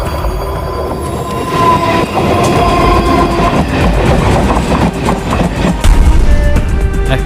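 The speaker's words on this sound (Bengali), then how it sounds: "ট্রেন আসছে একটা" A train passing close by: a loud, continuous rumble of rolling wagons with rhythmic clatter and occasional wheel squeal, building slightly toward the end.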